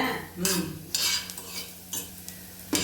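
Fennel and coriander seeds are dry roasted in a pan for ginger kuzhambu, with repeated close scraping and stirring strokes of a metal spoon against the pan and light rattling, several sharp bursts over a quiet background.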